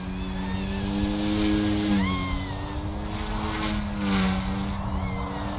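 A Blade Infusion 180 RC micro helicopter hovers in idle up with a sustained whine that dips and rises in pitch, steady and fairly close.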